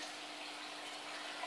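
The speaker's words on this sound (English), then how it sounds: "I wash out the frozen tablets because look at the colour of the water" Frozen fish food tablets are rinsed under running water, a soft continuous hiss of flowing water from a tap, steady and close for a short moment with no talking.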